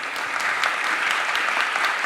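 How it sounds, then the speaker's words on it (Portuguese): Audience applause at a talk event: a brief, dense, even wash of clapping from a crowd, steady throughout and heard on its own. "uma salva de palmas para a Elaine,"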